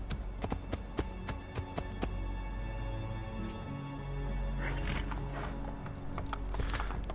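Horse hooves clip-clop in Assassin's Creed Brotherhood on PC, a steady stream of sharp, close hoof strikes over a constant game ambience and music bed, with no talk.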